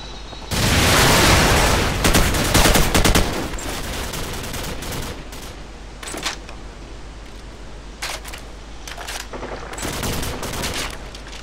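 Rapid video game gunfire crackles in dense automatic bursts, loud and close, with scattered single shots and sharp bangs continuing throughout.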